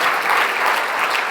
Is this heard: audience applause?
yes